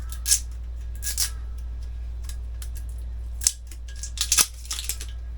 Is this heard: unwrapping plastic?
yes